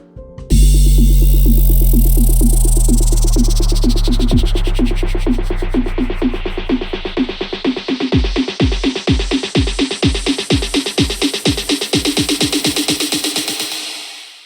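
An EDM downer effect built on a long G note sweeps downward over several measures, starting as a loud sustained synth tone and turning into pulsing, repeating beats that fade out toward the end.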